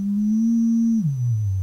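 A pure, steady sine tone from a Qu-bit EON oscillator module running QAO firmware holds one pitch, then glides down to a lower note and sustains there.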